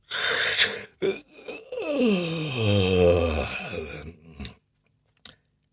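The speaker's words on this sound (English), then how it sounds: "and yawned an enormous yawn" A drawn-out, enormous yawn from a single close voice, its pitch sliding downward before trailing off into a breath.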